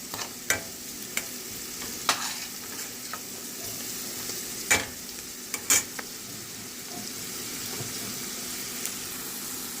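Onions with salt, turmeric and fenugreek frying in oil for ridge gourd moong dal, giving a faint steady sizzle broken by several sharp scrapes and clinks of a spoon stirring the pan, with no speech.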